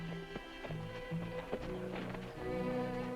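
Horse hooves clip-clop on a town street during a funeral procession, a steady string of close hoofbeats running beneath music throughout.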